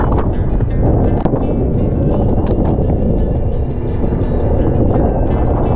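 Strong wind blasts across the microphone in thick fog on a mountain road in Infanta, Quezon, a loud continuous roar with no voices.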